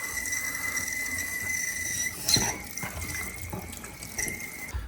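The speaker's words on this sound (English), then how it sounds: "Also the faucet makes some strange noise." A bathroom sink faucet on a pedestal sink runs steadily, a continuous hiss with a thin whistling tone from the faulty faucet and a brief splash or clunk midway.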